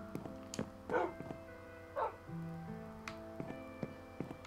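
Dogs in the video game Minecraft let out a few short, soft barks and yips, spread out and fairly faint, with other quiet game sounds in the background.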